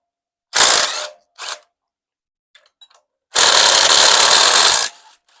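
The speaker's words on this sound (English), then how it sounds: "Willie's got a wrench" A ratchet wrench works on the bolts of a 392 stroker engine during teardown: two quick bursts of loud, close clicking, a few faint ticks, then a longer sustained run of rapid ratcheting before it stops.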